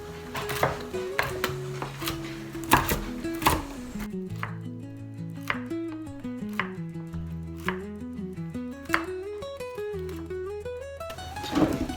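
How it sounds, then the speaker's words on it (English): Kitchen knife chopping walnuts on a board for a carrot and apple salad, with rapid crisp repeated cuts in bursts, close and clear, accompanied by soft background music and no talking. "I'm now just chopping up some walnuts for that."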